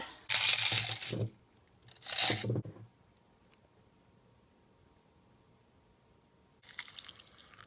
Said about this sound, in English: Boiling water, and I'll let that steep for a few minutes.